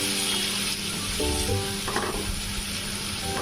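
Onion paste frying in a pan while cooking boneless fish, a steady loud sizzle with brief stirring scrapes, no talking.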